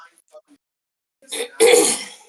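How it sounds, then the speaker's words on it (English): A single harsh cough or throat-clearing burst breaks a near-silent stretch, loud and close, lasting under a second after a short rough lead-in. "Oh, and a cough."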